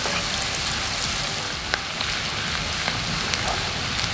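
Shallots sizzle and crackle steadily in hot oil, a dense continuous frying hiss with occasional sharper pops.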